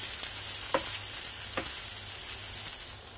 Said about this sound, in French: On va remuer pendant 30 secondes.